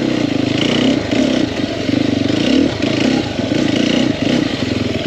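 A 2021 Sherco 300SEF four-stroke dirt bike working through technical off-road terrain, its engine droning steadily up close with repeated rev surges, clatter and scraping, no talk.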